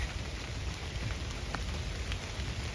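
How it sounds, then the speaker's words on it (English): Steady rain falls at an outdoor evening vigil, a dense, even hiss of drops with faint pattering, heard alone without any talking. "here comes the rain"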